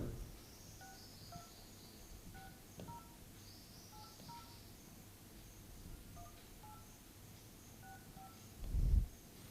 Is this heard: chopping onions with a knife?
no